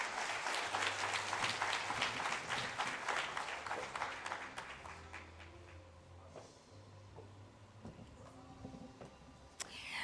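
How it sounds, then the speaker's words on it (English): An audience at an aviation summit applauds steadily, a dense patter of many clapping hands that gradually thins out and fades toward the end. "May we please give another warm round of applause to Ms. Khoza."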